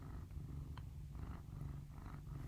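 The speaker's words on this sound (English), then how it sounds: "can you hear Jack purring?" A cat purrs close by in a soft, rhythmic rumble, steady breaths of vibration with nothing else audible.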